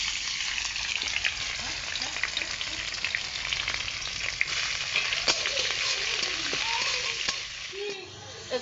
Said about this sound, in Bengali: লবণ দিয়ে চিংড়ি মাছটাকে আমি ভালো করে ভেজে নেব।